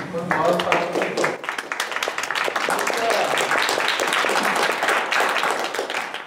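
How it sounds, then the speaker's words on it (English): Audience at a sustainable farming and food systems forum gives a round of applause, dense clapping that fills the room at steady volume while voices talk over it. "I want to give a round of applause to the, gentleman at the end."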